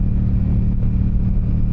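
A motorcycle engine blips and revs during a rev-matched downshift. The engine note is close, loud and continuous, with a brief surge in the middle.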